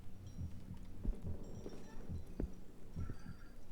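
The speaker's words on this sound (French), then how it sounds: "Oh, on entend les battements de cœur." A muffled heartbeat effect throbs quietly in the horror video game Song of Horror, set in an abbey, with soft low thumps repeating in a steady rhythm over a dim ambient hum.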